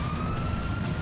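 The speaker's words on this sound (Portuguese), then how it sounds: "Desliga a sirene." A police car siren in the video game GTA 5 Online wails steadily and loudly, a sustained electronic tone over a dense engine and road rumble, with no voices over it.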